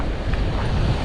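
Big ocean waves crash and roar as a dense, steady wash of surf, loud and close, with wind buffeting the microphone and no voices over it.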